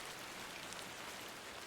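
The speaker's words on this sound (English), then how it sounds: "It's raining pretty hard" Heavy rain in the adventure game The Excavation of Hob's Barrow, a steady, faint hiss of downpour with no voices.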